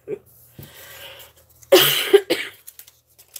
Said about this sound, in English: Sorry about the coughing or sniffling or anything I may have going on here.